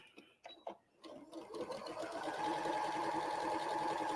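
A sewing machine stitches quilt pieces, starting with a few short bursts and then settling into a steady, fairly close running hum that holds to the end, with no talk over it.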